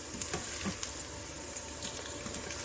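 Onions browning in a Zaicon electric pressure cooker, a steady close sizzle and frying hiss with faint stirring clicks throughout, no talking.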